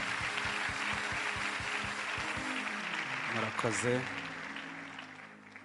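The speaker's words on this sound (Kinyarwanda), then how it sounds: "Reka dukomere Imana amashyi" A worship congregation claps for God in a steady wash of applause over a rhythmic low thumping beat, fading as someone briefly speaks near the end.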